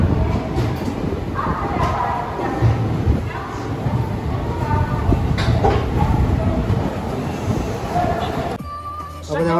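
A passenger train heading for Varanasi rolls into a station with a continuous loud rumble and rattling wheel clatter. Faint murmuring voices sit underneath, and the noise drops away abruptly near the end.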